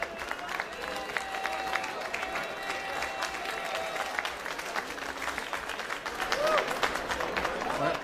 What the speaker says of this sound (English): I think it's time to clap for Rastislav Kuban